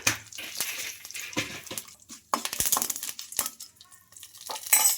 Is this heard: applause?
no